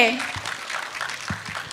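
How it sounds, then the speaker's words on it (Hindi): Studio audience at a televised singing competition claps after a contestant's performance, a loose patter of applause with the host's voice speaking over it near the start. "एक बार जोरदार तालियां हो जाए दाखमो के लिए।"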